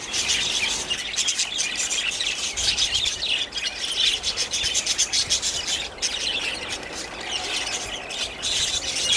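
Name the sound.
budgies chirping in a large backyard aviary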